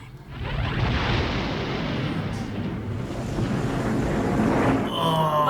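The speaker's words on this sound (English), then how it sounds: "it's a logo reveal, not a space explosion" A deep, roaring whoosh accompanies the title logo reveal of the 1982 horror film The Thing, loud and sustained like a rumbling blast for about five seconds, ending in a brief brighter shimmer.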